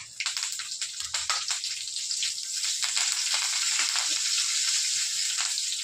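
Loud, continuous sizzling of dried red chillies, cumin and curry leaves frying in hot oil for a radish chutney tempering, crackling steadily close up with no voices.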